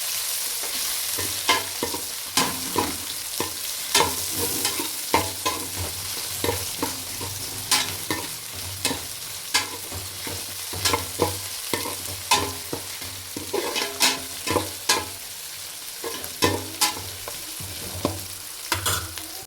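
Tomato sautéing in a pan, a steady loud sizzle and fry with repeated stirring scrapes and clacks of a utensil throughout, no voices.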